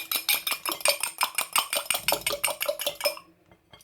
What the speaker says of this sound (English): Trying to incorporate the yolk and the white together.